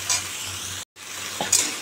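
Cauliflower and potatoes fry in mustard oil with a close hiss and crackle, broken by a brief silence and a quick scrape of stirring.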